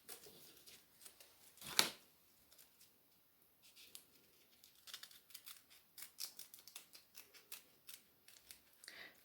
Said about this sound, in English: I'm just cutting that cardboard around there